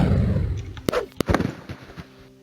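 Fire hounds blowing themselves up in the game Arena: a couple of sharp, near blasts close together followed by crackling, sputtering bursts that fade out within a second or two.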